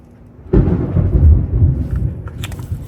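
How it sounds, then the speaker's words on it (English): A sudden loud roll of thunder breaks in and rumbles deeply for a couple of seconds, slowly fading, with a faint rainy hiss behind it. "Probably hear thunder in the background. It's raining."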